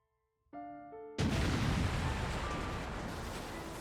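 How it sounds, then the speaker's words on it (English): A massive distant explosion in the video game Tokyo Necro, a sudden loud rumbling boom that decays slowly over a few seconds, preceded briefly by a held musical chord. "A massive explosion rings out in the distance."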